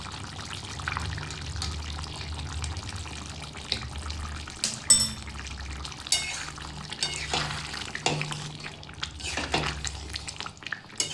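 Ghee is poured into a simmering jhinge bora curry of ridge gourd and lentil fritters, a soft liquid pour and drips over steady low cooking noise, with a few light clinks of utensils and no talking.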